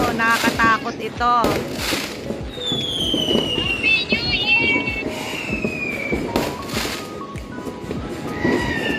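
New Year's Eve fireworks bursting in a dense neighborhood barrage, with a steady stream of bangs and crackles throughout and rising whistling rockets mixed in, and voices talking faintly underneath.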